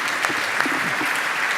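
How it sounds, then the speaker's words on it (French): Applause from a gathered audience at a CCI handover ceremony, steady dense clapping throughout with a few sharper individual claps standing out. "Alex, on peut l'applaudir encore très très fort."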